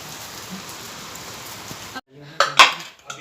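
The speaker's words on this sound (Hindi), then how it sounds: "और बाहर तो बहुत बारिश हो रही है" Heavy rain falls steadily outside in Shimla, a dense even hiss for about two seconds, then gives way to brief nearby clatters and a short voice.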